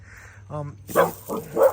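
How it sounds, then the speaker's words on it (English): Dogs bark at home, giving four or so short, loud, close barks in quick succession after a brief quiet start. "My dogs bark at every little thing."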